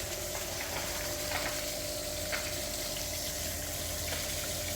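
Coolant contaminated with oil drains from an Opel Vectra C engine in a steady, continuous liquid rush and splatter, close and even throughout, with no talking.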